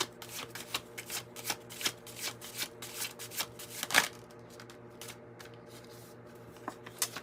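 A deck of oracle cards being shuffled by hand, a quick run of riffling card flicks close up that thins out into a quieter stretch near the end.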